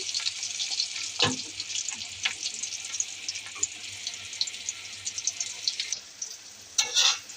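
Slices of snake gourd fry in a hot pan with a steady, close hiss of oil that runs unbroken throughout, punctuated by a few sharper crackles and a louder spatter near the end.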